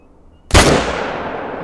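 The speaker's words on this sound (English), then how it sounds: "Shot again and shot underneath of him." A single rifle shot fired at an animal in the hunting video game Call of the Wild, a sudden loud crack out of near quiet followed by a long fading echo across open terrain.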